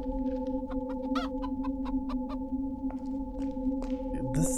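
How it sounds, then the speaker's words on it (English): A chicken in the video game Arx Fatalis clucks in a series of short, sharp calls over a steady low in-game hum, fairly close and alone without talk. "This chicken has to be somehow significant, right?"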